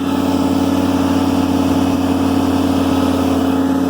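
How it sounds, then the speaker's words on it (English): A Ford 10-cylinder natural gas irrigation engine runs steadily at a constant idle-like drone with a strong low hum and no change in pitch, loud and continuous with no talking. "Out there is a Ford 10-cylinder natural gas engine, one of the most efficient irrigation engines in the world."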